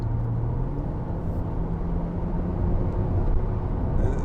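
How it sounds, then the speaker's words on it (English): Steady, close engine drone from a 2006 Mercedes-Benz SLK280 with a 3.0 engine and 7G-Tronic automatic, underway on the road, holding a smooth even tone with low rumble throughout and no talking. "The sound of this engine, it is lovely"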